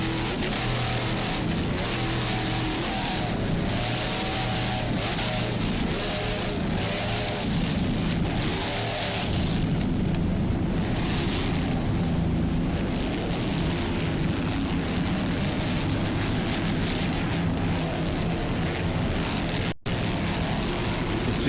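Big V-bottom offshore powerboats racing through rough water and swells, their engines a steady, loud, continuous roar mixed with wind and spray noise throughout, with no pauses.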